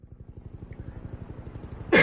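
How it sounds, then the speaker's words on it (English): A single harsh cough bursts out loud and close at the very end, after a steady low rhythmic rumble. "If I can stop coughing."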